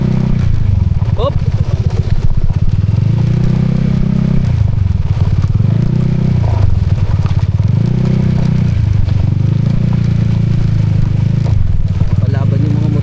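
Motorcycles riding on a camping trip, a loud, close engine drone that rises and falls through gear changes with clattering over rough ground, while riders talk and shout over it.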